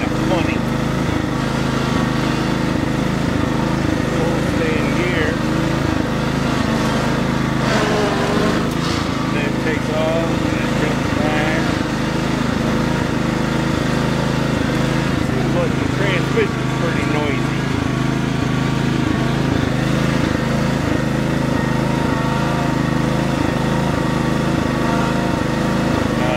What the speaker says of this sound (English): I'm going to move my welder with my little mower here.